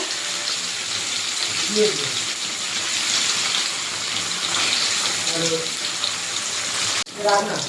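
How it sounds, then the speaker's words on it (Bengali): Paneer frying in a pan for a potato and paneer curry, giving a steady, even hiss through most of the clip that sounds much like running water, with brief faint voices in places and a short clatter near the end. "এই টপিট করে একটু হালকা লাল করে ভেজে নেব"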